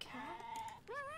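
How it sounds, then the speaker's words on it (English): A sheep in the Star Stable video game lets out two short, clear bleats in quick succession, the second rising in pitch, close and distinct with nothing else competing. "And a sheep!"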